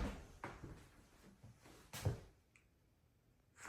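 Bathroom vanity drawers in a house are pulled open and pushed shut, giving a series of soft wooden thumps and slides followed by a quiet pause and one last knock.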